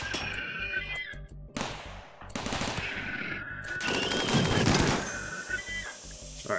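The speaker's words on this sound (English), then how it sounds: "Alright, Zero just got lightly shot." Turret gunfire in a RimWorld video game battle, dense bursts of rapid shots that swell louder midway and carry on without any talk.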